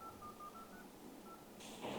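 A telephone number being dialed, with a series of faint, evenly spaced touch-tone beeps followed by a short burst of louder tones at the end, heard alone against quiet hiss.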